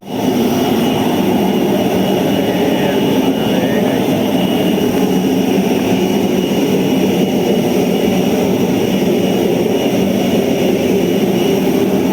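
A loud, steady roar of passenger plane jet engines continues unbroken, close by, with faint voices barely audible beneath it.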